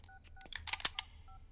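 A telephone is dialed to call Sydney: a quick run of distinct touch-tone beeps, about a dozen crisp tones in an uneven rhythm, close and clear with nothing else heard.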